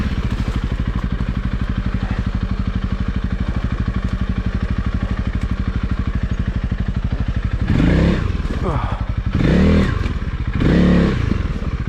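Honda CRF300L dirt bike ridden off-road uphill over a log: a steady, close, buzzing engine drone, then several loud bursts of revving and clattering as the bike climbs and hops the log. Nobody speaks.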